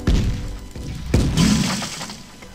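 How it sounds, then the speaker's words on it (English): Cannon being destroyed in a Roblox pirate battle game, a few loud thumping impacts followed by a shattering, crumbling crash that fades out. "Destroyed my cannon."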